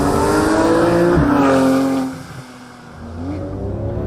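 A Porsche 911 GT3 driving hard, its engine note rising through revs with a shift around the middle, then easing off and climbing again; loud and close throughout.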